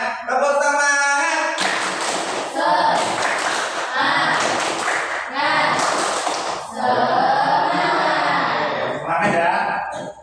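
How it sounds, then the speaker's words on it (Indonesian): A classroom group does a loud, close rhythmic clapping routine, the hand claps mixed with energetic chanting voices throughout. "Tepuk tangan."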